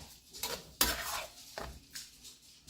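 Jamaican callaloo and salt fish being flipped in a pot: quiet scrapes and clinks of a utensil against cookware, with a few sharper taps and a soft sizzle underneath, no talking.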